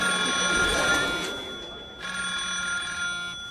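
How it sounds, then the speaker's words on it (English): A cell phone rings in a quiet indoor room, two electronic bursts of a steady multi-tone ringtone with a short gap between them, fairly close and clear with no talk. "Just my cell phone."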